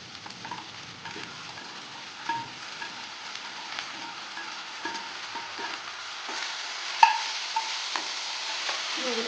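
Green chilli, garlic, onion and chopped pineapple fry in a pan with a steady soft sizzle, broken by occasional stirring scrapes and one sharp tap near the end.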